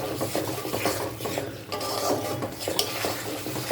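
Chopped tomato goes into a chicken masala being sautéed in a pot, giving a steady, dense sizzle with scraping and clattering from a spoon stirring against the pan throughout.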